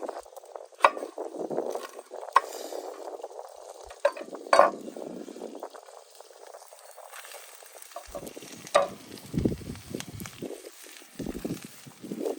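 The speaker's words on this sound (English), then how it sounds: "Those onions are already sizzling in that butter. We're going to go stir that up right" Soft sizzling of onions frying in butter in a cast iron pan outdoors, with occasional scrapes and clinks of stirring, fairly quiet and steady.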